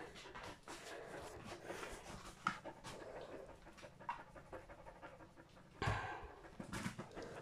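A dog pants rapidly and steadily up close, a rhythmic huffing that continues the whole time with a couple of louder bumps.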